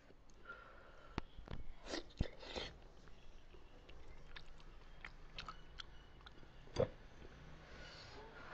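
Close-up chewing and biting of cooked sheep head meat, with wet, sticky mastication sounds and several sharper bites spread over the stretch, quiet and intimate.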